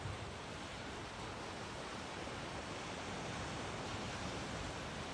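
Sea surf rolling onto Odesa beach on a cool morning, a steady, loud broadband wash of breaking waves filling the whole stretch without pause, no voices heard.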